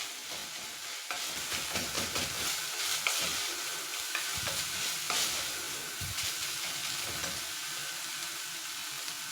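Ginger paste and garlic frying in a pan for beef samosa filling, a continuous sizzle broken by repeated spoon stirs and scrapes over about nine seconds, no talk.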